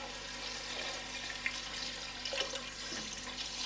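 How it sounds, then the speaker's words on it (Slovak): Water is poured steadily into a pot of hearty autumn soup seasoned with salt, ground caraway and red paprika. The pour is a continuous, fairly quiet rush of liquid with no talking. "zalejeme vodou"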